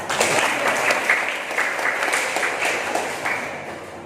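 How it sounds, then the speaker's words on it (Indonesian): A church congregation at a nun's fiftieth jubilee celebration claps warmly and continuously, a dense, even wash of hands slowly fading toward the end, with no voices over it. "Marilah kita memberi tepuk tangan yang meriah"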